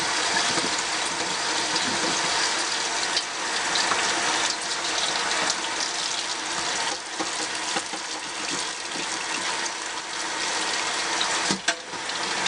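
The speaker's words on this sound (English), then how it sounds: "And rinse your brush out." A makeup brush is rinsed under a running tap, with a steady, close hiss of water splashing into a sink, broken by brief changes as the brush moves through the stream.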